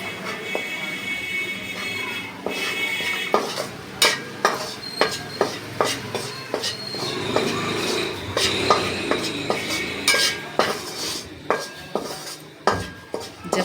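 Maida flour roasting in ghee in a pan over low heat, stirred with a spoon scraping and clinking against the metal over a steady faint sizzle, with regular sharp utensil knocks throughout.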